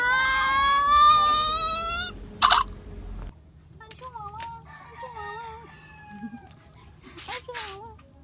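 A pet cat meows in a few short, wavering calls at close range, with someone talking in between.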